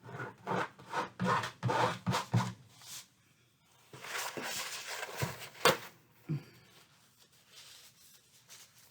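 Scraping Shiva Paint Stik oil paint off a surface: bursts of dry, rasping scratches in short strokes, quiet and close, with pauses and a few sharper scrapes.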